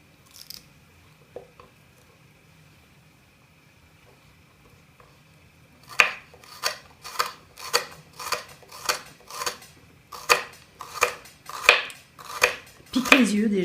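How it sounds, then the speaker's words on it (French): A knife slices food into thin strips for Ethiopian legas tibs, with about a dozen crisp, evenly spaced cuts against a board after a quiet opening, close and distinct with no talk over them. "Et il faut les couper en fines lamelles"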